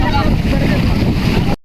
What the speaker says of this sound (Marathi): लाटा मोठ्या याल्यात.